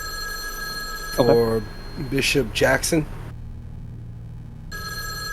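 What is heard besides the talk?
telephone ringing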